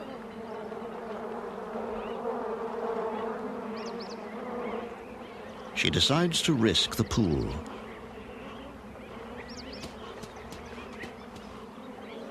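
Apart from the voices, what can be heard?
bees buzzing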